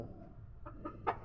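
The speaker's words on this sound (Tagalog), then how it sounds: "Yan, isang variety ng manok." Kubra chickens, a featherless-neck variety kept in Negros, give a few short clucks that grow louder toward the end, over a low background murmur.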